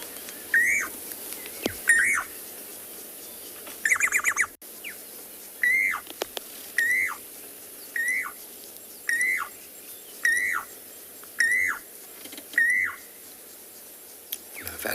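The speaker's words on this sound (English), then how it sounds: "If you didn't hear the Llewellyn's cuckoo, I'll play it for you" Recorded call of a Llewellyn's cuckoo: a clear, repeated rising whistled phrase given about ten times at steady intervals of just over a second, fairly close, over quiet natural background.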